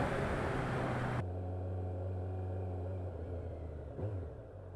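A Kawasaki Z900 motorcycle pulls away in first gear, its engine giving a loud, steady low drone that drops in pitch after a sharp shift in note early on, with a brief wind-like surge near the end.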